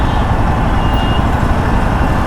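Riding a Himalayan 450 through Mumbai's peak-hour traffic near the Dahisar toll, a loud, continuous roar of engine and wind with dense road noise and a faint high tone briefly in the middle.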